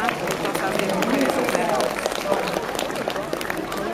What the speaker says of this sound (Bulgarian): Аплодисменти за Мирослав Илиев.